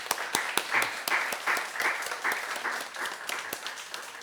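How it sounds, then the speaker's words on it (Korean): A church congregation at a Sunday service claps in thanks, a brisk, fairly close round of many hands with distinct sharp individual claps ringing out through the dense patter. "우리 서광수 집사님이랑 류 목사님 우리 감사하는 박수 한번 하겠습니다"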